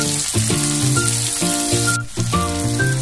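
Sliced tomatoes frying in a pan for prawn curry give a steady sizzle, loud and close, with no voices.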